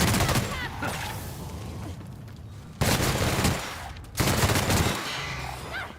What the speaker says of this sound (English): I feel like I need to use this machine gun more.